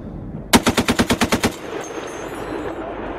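An M2 Browning heavy machine gun fires a single burst of about nine rapid, evenly spaced, loud booming shots at a military training range, followed by fading echo and faint background noise.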